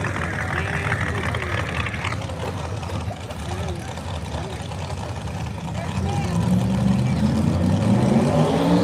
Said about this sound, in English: That is a turbocharged engine power 1967 Mustang.